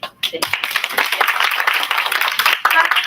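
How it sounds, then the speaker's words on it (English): An audience claps steadily at an English-language contest, a dense, sustained round of applause that fills the whole moment with closely packed hand claps. "So give you a big clap."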